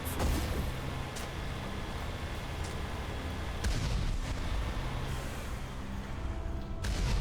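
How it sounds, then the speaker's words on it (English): Enemy gunfire in the video game Mass Effect Legendary Edition: a dense, continuous burst of shots and booming impacts, with several sharper cracks standing out, fairly loud throughout. "whoever's shooting at me is in front of me"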